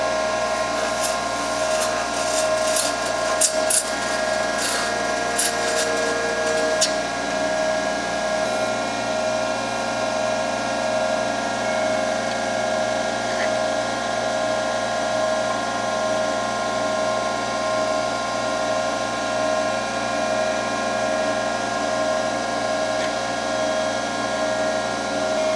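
A lathe hums steadily as it turns a cast Alumilite white resin pen blank, a continuous close whine with a few brief scraping ticks of the tool early on.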